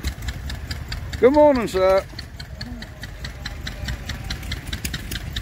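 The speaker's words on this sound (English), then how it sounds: "That is lovely, little Wisconsin. That beautiful little engine." Small Wisconsin stationary engine running at a rally, a steady rhythmic mid-pitched putter throughout, with a man's brief greeting and another short voice over it.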